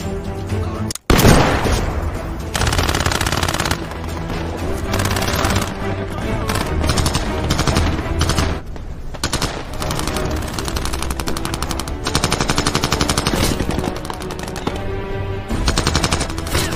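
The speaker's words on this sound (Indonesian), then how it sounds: "Pasukan Jerman kembali berhasil mendominasi pertempuran menggunakan senapan mesin" Machine guns in a World War II Soviet-versus-German battle fire in long, loud, continuous bursts. A sharp blast near the start briefly cuts out the sound, then dense gunfire and explosions run on without a break.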